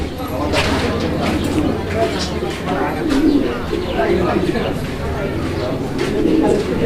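A pair of Tiger Beauty Homer pigeons coo repeatedly at close range, the low burbling calls running steadily under a dense background of other birds and loft noise.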